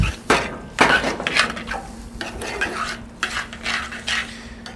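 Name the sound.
mixing pasta into macaroni and cheese sauce in a pot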